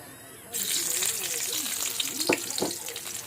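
Sliced onion dropping into a hot frying pan sets off a sudden, steady sizzle that starts loud and close and keeps crackling, with a couple of brief knocks partway through.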